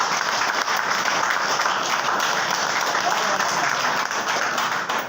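An audience at a motivational training session bursts into loud, dense applause, a continuous roar of many hands clapping at once that holds steady for several seconds before easing slightly at the end.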